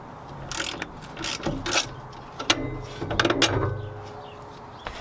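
Ratchet working the bottom coilover bolt on a Mazda Miata suspension: bursts of fast metallic clicking, close and fairly loud, with short pauses between strokes and no talking.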